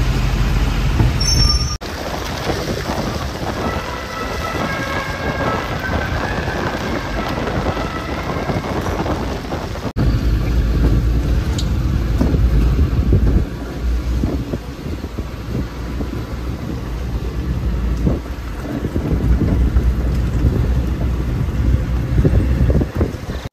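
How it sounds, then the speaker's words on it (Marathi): Heavy rain drums steadily on a private car stuck in a single line of traffic on the way to a Ganpati festival village trip, a dense continuous roar with low rumble throughout and no talk. "तुफान पाऊस पडतोय, सोबतच एक लाईन ट्रॅफिक झाली."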